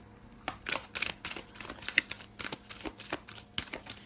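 Oracle cards from the Shine Your Light deck are shuffled by hand in a steady run of crisp, riffling bursts, close and fairly quiet, with no talking.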